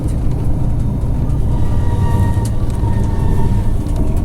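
Loud, steady rumbling roar of a passenger train passing, with rhythmic clatter and a faint high squeal over the top.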